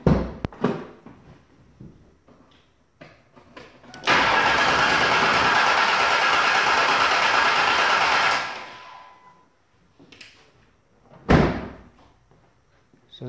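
A vehicle engine cranks steadily for about four seconds but fails to catch with the PCM relay removed, preceded and followed by clicks and thumps, including a door-like slam near the end.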